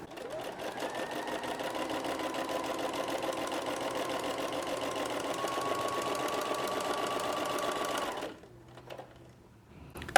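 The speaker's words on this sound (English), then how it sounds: "So we're just gonna continue sewing along those lines" A sewing machine stitches shirring rows with elastic thread, running steadily and close for about eight seconds before stopping, followed by a short quiet stretch.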